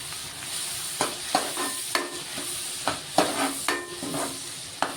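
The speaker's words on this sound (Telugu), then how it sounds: "ఇప్పుడు కొద్దిగా బ్రౌన్ కలర్ వచ్చేంత వరకు బాగా వేపుకోవాలన్నమాట." Onions and green chillies frying in a pan, a steady sizzle with repeated scraping stirs of a spatula at an uneven rhythm, close and fairly quiet.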